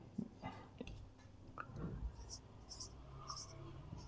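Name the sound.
writing a name on a board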